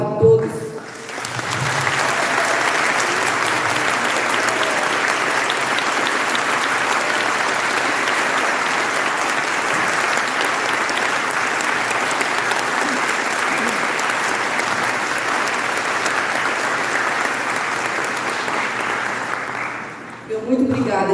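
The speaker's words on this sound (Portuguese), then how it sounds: "eu quero pedir uma salva de palmas a todos." A congregation in a parish church applauds at length during an anniversary service, a dense, even wash of clapping that holds steady for about twenty seconds before fading out.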